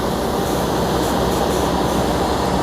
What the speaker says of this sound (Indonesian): Itu dari arah utara udah kelihatan sorot lampu, kemungkinan adalah rangkaian kereta api Taksaka